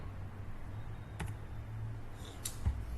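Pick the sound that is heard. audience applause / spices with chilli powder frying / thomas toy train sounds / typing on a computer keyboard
typing on a computer keyboard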